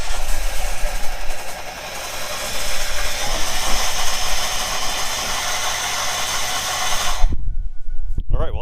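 A 1997 Chevrolet Camaro, long neglected and saved from the crusher, cranks and starts, running loud and steady for about seven seconds before abruptly cutting off.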